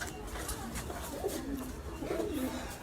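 Racing pigeon cooing near its loft during a pigeon flying competition, soft repeated coos over steady background noise and some talk.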